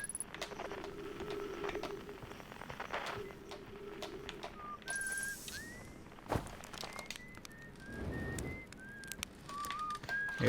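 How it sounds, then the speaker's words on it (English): A lone character whistles a melodic tune on Saddle Rock, a tiny planet in the video game Outer Wilds, with short rising and falling notes repeating against faint ambient wind and a few footsteps. "There's a guy, it's just a dude up here whistling."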